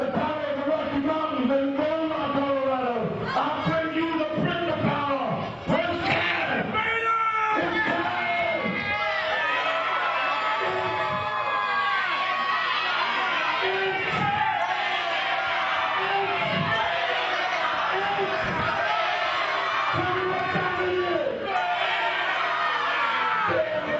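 Wrestling crowd at a Liberty States Wrestling event cheering, whooping and shouting continuously, with loud overlapping voices and occasional bellows filling the arena throughout.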